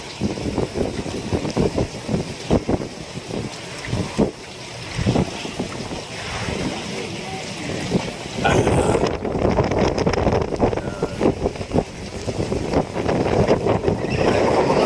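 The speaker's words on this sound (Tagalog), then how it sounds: "Lakas ng hangin, mga kabisig." Typhoon-strength wind blasts across a boat at sea off Surigao, heavy gusts buffeting the microphone with rushing water below, swelling louder in the second half, and no one speaking.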